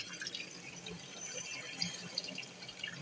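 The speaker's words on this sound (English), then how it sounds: "there's, number one, barely any water coming out. It's actually a thin trickle." Thin trickle of water running from a tap that gives barely any flow, a soft steady hiss with faint drips, alone and fairly quiet.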